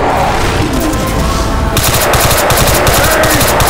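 Dense, loud automatic gunfire fills a Left 4 Dead 2 survival round in the Atrium, a continuous fusillade of rapid shots that grows sharper and more rhythmic partway through.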